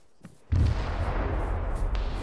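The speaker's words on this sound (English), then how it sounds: "What are all those explosions?" A heavy roar of explosions and artillery fire in the military shooter Arma breaks in abruptly after a quiet moment, then a dense, sustained rumble continues with a few sharper bursts on top.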